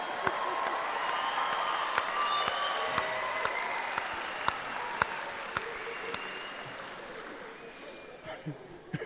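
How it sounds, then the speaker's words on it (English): Enthusiastic audience applause at a live comedy show by The Laughing Samoans, a dense steady roar of clapping with sharp individual claps popping out, tapering off near the end as scattered voices come through. "Give him a big round of applause"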